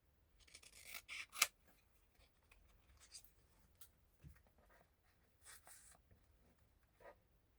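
Scissors cut a hotel picture for a Venice travel junk journal, quiet close snips and paper rustles in short bursts over near silence, one sharper snip early on.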